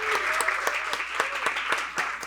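Audience applause welcoming a panel speaker at a youth and digital-era conference, a dense patter of many hands clapping in a steady burst, fairly close and lively.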